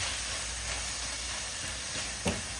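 Fajita vegetables stirred in a hot pan, a steady close sizzle with a brief scrape or clink of the utensil.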